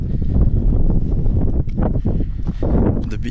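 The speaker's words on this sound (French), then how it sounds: "Il y a beaucoup de vent" Strong wind on the Ring of Kerry in Ireland buffets the microphone in a steady, loud roar with gusty surges and no voices.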